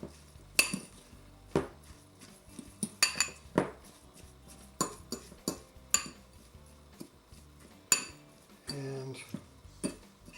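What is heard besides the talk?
stirring mixture with almond milk in a bowl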